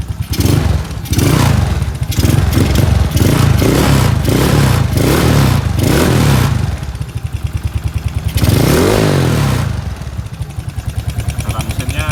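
A Yamaha Mio scooter engine fitted with a PWK carburetor and a bored-out exhaust runs close up, revving in a string of blips with a rattling, buzzy tone, then settling to a lumpy idle; someone talks briefly.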